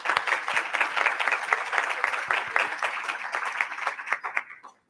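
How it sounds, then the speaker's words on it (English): An audience at a public affairs panel event gives a steady round of applause, dense clapping that fades out at the end. "Let's give them a round of applause."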